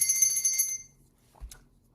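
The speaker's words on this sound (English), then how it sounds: "That's the real bell." A bell sound effect on a radio show: a bright, sustained high ringing tone sounds for under a second, then fades, followed by a brief soft thump and a short high jingle.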